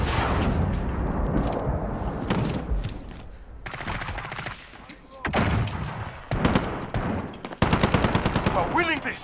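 Rapid bursts of automatic gunfire and single loud shots from the video game Call of Duty: Modern Warfare, close and dense, with excited talking over the shooting throughout.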